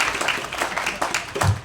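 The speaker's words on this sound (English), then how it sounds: "you are clapping for my accomplishments" A comedy club audience claps steadily for a performer at a headlining stand-up show, a dense, moderately loud patter of many hands that carries on through the moment.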